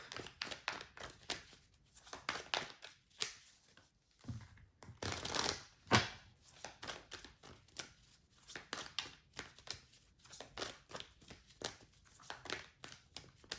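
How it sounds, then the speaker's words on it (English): Tarot cards shuffled by hand, a long run of quick, crisp riffling and flicking bursts in an uneven rhythm, close and quiet, with no talking. "can I get the top 6 cards, please"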